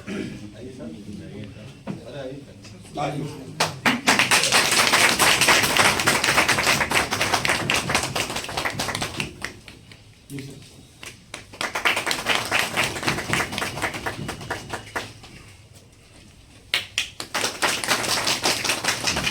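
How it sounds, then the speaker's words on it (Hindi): An audience at a Basic Education Department ceremony in Ghazipur claps in dense bursts of applause, loud and close, rising and fading several times between stretches where someone speaks over a microphone. "तालियां कम क्यों बज रही है?"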